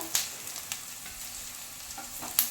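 Chopped tomato frying and being stirred in a pan for butter chicken, a soft continuous sizzle with a few brief scraping stirs, close and fairly quiet, no voices.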